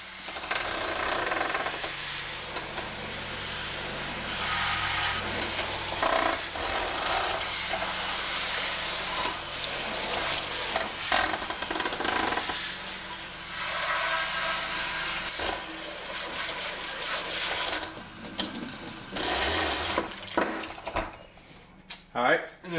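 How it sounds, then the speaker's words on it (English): Running water sprays and rinses down a stainless steel sink in a continuous, close hiss, with brief changes in the flow and a few clatters near the end. "what I'm going to do now is just kind of maybe rinse it down one more time"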